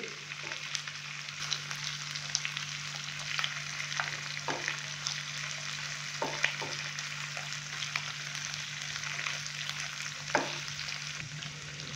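Chicken frying in a pan with fresh coriander for a spicy chicken fry: a steady close sizzle with scattered pops and occasional scrapes of stirring, continuous throughout.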